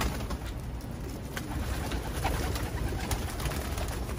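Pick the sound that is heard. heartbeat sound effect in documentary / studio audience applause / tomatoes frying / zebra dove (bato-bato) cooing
zebra dove (bato-bato) cooing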